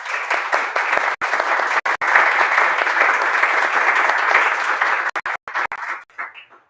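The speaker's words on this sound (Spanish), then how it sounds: "Les pedimos un fuerte aplauso para ellos." A hall audience at a book launch gives team members loud, sustained applause, a dense wash of clapping that breaks off briefly a few times and then tapers away.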